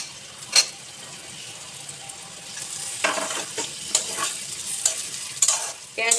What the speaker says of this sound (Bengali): পেঁয়াজটা দিয়ে একটু নেড়ে চেড়ে আমি ক্যাপসিকামটা দিয়ে দেবো